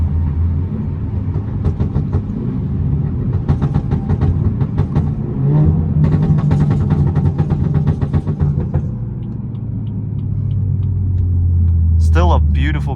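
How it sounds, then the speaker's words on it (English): BMW 330i with a stage 2 tune and aftermarket downpipe, driving at night, its exhaust droning low and steady with rising and falling engine pitch, and a voice speaking over the rumble. "Y'all hear that downpipe?"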